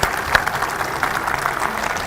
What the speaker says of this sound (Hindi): आप हमारे बीच में जोरदार तालियों के साथ स्वागत कीजिए एसके तिग्गा जी का